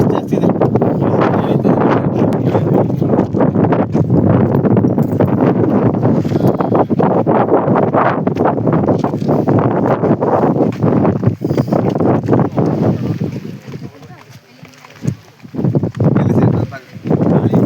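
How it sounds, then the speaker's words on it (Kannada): Strong wind buffets the microphone on the Nandi Hills hilltop during paragliding, a loud, continuous roar with gusty surges that eases briefly near the end, while people talk over it. "ಗಾಳಿ ಫೋರ್ಸ್ ಜಾಸ್ತಿ ಇದೆ."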